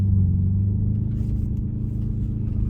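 A $900 used car's engine idles steadily after starting, a loud, continuous low rumble close by with an even throb throughout and no voices.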